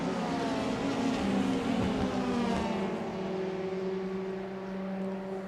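Formula Renault 2.0 race cars at Monza scream past in a sustained, high-revving engine drone that holds loud and steady before gently easing off.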